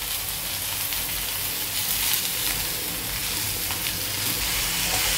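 Radish leaves hit a hot tempering of onion, garlic and chilli in a pan, giving a steady, close, even sizzle and fry with no voices.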